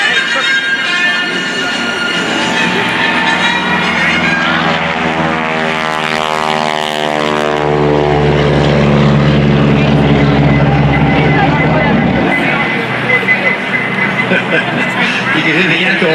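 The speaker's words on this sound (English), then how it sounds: "That's a Pratt & Whitney 985 cubic inch engine, gear-driven supercharger, puts out 450 horsepower." A wingwalking biplane with a supercharged Pratt & Whitney 985 radial engine roars loudly and steadily at an airshow, its propeller drone rising and falling in pitch as it passes, echoing off nearby hangars.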